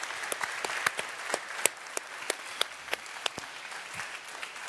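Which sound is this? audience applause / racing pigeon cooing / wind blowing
audience applause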